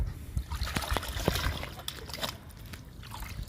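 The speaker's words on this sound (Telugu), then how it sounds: "లిక్విడ్ ఒకటి వాటర్ ఒకటి రెండు కలవాలి బాగా కలుపుదాము" Liquid splashing and sloshing as it is stirred, with repeated trickling and splatter sounds up close, fairly steady throughout.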